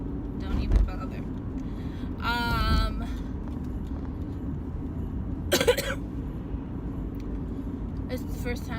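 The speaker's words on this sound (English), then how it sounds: "It's the first time pretty much that I'm coughing all morning" A person coughs and clears their throat a few times inside a moving car, over the low steady rumble of the engine.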